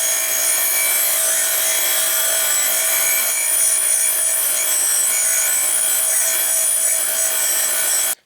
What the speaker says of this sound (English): So now I got to wire grind all the decals off.